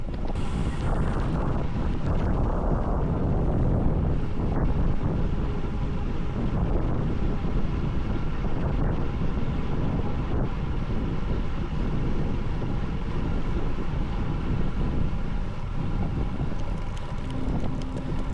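Steady wind buffets the microphone while a rider heads south into a headwind on a 2005 Giant TCR Composite road bike, a continuous loud rushing roar that stays unbroken throughout.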